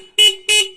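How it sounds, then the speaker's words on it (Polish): Two short, bright horn beeps from a 250cc automatic quad bike, close and loud, with a brief gap between them. "I klakson nawet działa"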